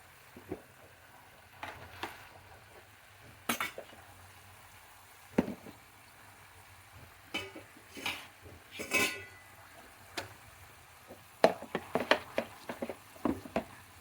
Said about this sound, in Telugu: ఇలాగ వేగనిద్దాము, ఒక 2 నిమిషాలు వేగాలి ఇది.